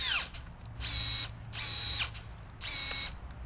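A Milwaukee M18 telescoping pole pruner whirs in three separate bursts of about half a second each, its motor and chain revving up and winding down as it cuts a branch, with no voice.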